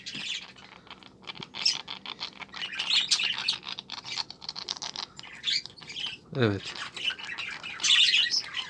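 An ailing budgerigar under treatment chirps and squawks, close and fairly loud, continuing throughout in busy bursts, with a brief spoken word partway through.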